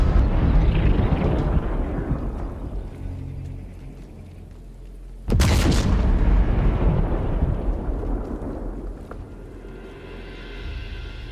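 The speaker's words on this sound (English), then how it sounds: "combine that with the boom of a naval cannon" In Sniper Elite 5, deep, rumbling naval cannon booms roll out and decay slowly, with a sudden heavy blast midway followed by a long, thunderous rumble fading into distance.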